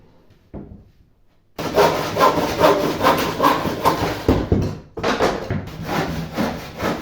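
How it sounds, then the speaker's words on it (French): Saw cutting plywood along marked lines to shape a medieval shield, a faint tap first, then loud, close, continuous rasping strokes with a brief pause before the cutting resumes. "je vais découper en fait suivant les traits que je viens de faire"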